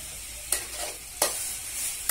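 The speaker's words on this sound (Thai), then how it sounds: "คนซ้ายคนขวาลูกอย่าให้ล้มกระทะนะลูก" Pad kaprao stir-fry being stirred in a hot wok, three sharp metal scrapes of the spatula spaced under a second apart over a constant close sizzle, with no talking.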